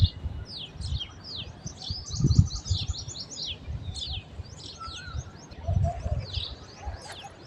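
Birds chirp in quick, bright bursts while pigeons coo low and intermittently on a rooftop at sunrise, fairly near and moderately loud, with no talking.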